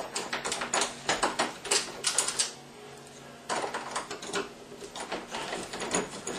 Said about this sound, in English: I'm just going to undo these screws here. You have to kind of hold your Phillips screwdriver at a slight angle.